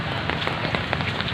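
Heavy rain falling on a surface, a dense steady patter with scattered louder drops for a brief moment, no one speaking.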